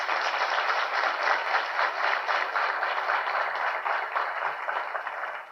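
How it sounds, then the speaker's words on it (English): Audience applause at a Savannah State University address, steady sustained clapping from a large crowd, even in level throughout. "Please give them a round of applause."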